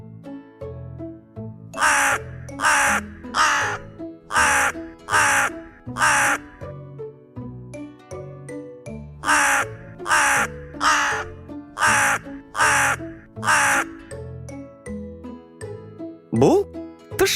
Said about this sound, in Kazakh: Бұл қарға. Қарға кар, кар